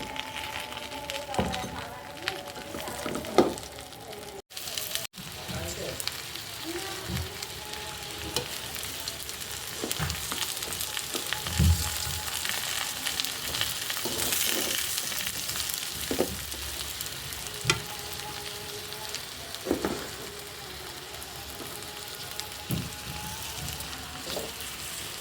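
Olives fry in mustard oil for a sweet-sour pickle, a constant close sizzle with intermittent clatters and scrapes of stirring, a faint voice occasionally underneath.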